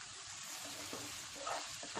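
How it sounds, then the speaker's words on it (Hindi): Spring onions and vegetables are sautéed over a high flame for fried rice, giving a steady, close hissing sizzle with faint stirring scrapes and no voices. "हाई फ्लेम पे इन्हें भी सॉटे कर लें।"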